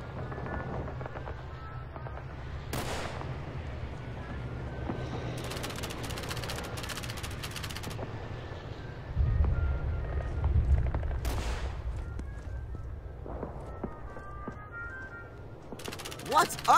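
Scattered rifle shots ring out at helmet targets on a World War II shooting range in Call of Duty 3: a single crack, then a quick cluster of several, more later, over a low background rumble.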